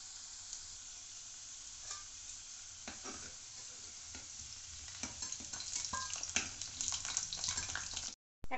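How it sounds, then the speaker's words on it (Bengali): Potatoes fry for a vegetarian aloo biryani, giving a continuous close sizzle in a pan, with occasional stirring scrapes and spatters that grow busier toward the end. "আর এখানে দেখো আলুটাও লাল লাল করে ভাজে নিচ্ছি"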